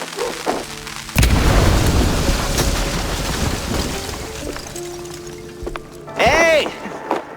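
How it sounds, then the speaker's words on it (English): Firecrackers burst inside a wooden attic in the video game MOUSE: P.I. For Hire, a sudden loud boom followed by a long crackling, rumbling roll of pops, with a few sharp cartoonish effects near the end. "stuffing firecrackers into wooden attics"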